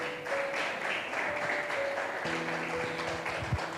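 A church congregation claps for the Lord during a sermon, a soft, diffuse spread of applause under faint sustained tones, fairly distant and steady throughout.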